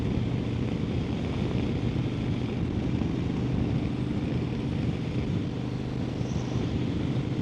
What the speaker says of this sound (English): My God, that's windy.